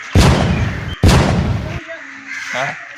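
Firecrackers for a Vishu celebration go off in two loud, sharp bursts about a second apart, each trailing a crackling decay, followed by quieter rustling and a short voice sound.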